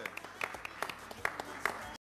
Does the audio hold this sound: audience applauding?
yes